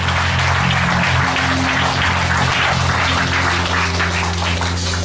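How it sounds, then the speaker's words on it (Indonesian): A church congregation applauding during a worship service, dense steady clapping from many hands that fills the room continuously, with a low sustained hum of organ or music beneath. "Mari beri tepuk tangan buat Tuhan yang luar biasa."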